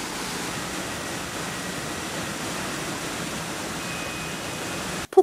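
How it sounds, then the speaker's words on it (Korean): A waterfall along the Cheonggyecheon stream in the city, a steady, even rush of falling water heard alone and close, cutting off abruptly at the very end. "물소리를 따라가 보니 보기만 해도 시원한 폭포가 보입니다."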